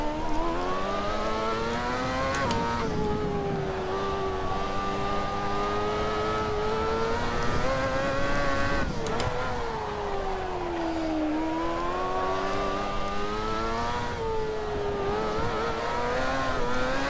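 Lotus T125 Exos S1 race car engine in Assetto Corsa, a loud high-pitched whine climbing steadily through the revs, dipping briefly at a couple of gear changes and rising again, with no talk over it.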